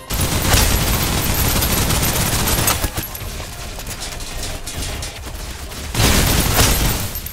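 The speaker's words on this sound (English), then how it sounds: "Suppressive fire." Dense, sustained automatic gunfire from the video game Snowbreak Containment Zone rattles loudly almost throughout, easing slightly mid-clip before a heavy burst returns near the end.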